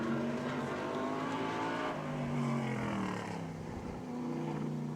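A race car on a qualifying lap at Hudson Speedway gives a droning engine note that rises and falls in pitch as it works around the track, heard at moderate distance and without talking.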